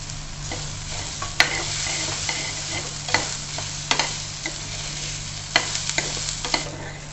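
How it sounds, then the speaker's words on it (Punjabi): Finely chopped green chillies frying in a pan for a rice dish, a steady close sizzle with repeated scrapes and clinks of stirring, with no talking. "ਲਓ ਜੀ ਦੋ ਪਾਈਆਂ ਆਪਾਂ ਹਰੀਆਂ ਮਿਰਚਾਂ ਬਰੀਕ ਕੱਟ ਕੇ"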